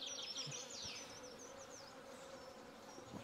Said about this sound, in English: Listen to the bee or else.